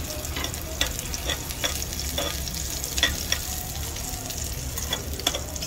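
Aromatics sauté in a little oil in a pan: a steady sizzle broken by repeated scraping stirs with a utensil, close and moderately loud, with no talking.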